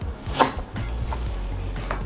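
A knife chopping a large onion on a board in a home kitchen, with a few sharp close cuts at an uneven pace over low background rumble.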